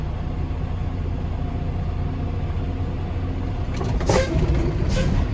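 A truck with a trailer idles with a low diesel rumble and then pulls slowly forward during an air brake test, the engine swelling a little louder near the end with a brief hissy burst.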